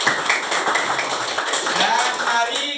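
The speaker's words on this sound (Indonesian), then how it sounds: "Tepuk tangan untuk Isbah dulu." A classroom of pupils clapping together for a classmate's birthday, a brisk, slightly uneven patter of many hands with children's voices mixed in underneath.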